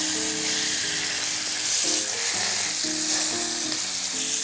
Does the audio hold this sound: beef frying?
yes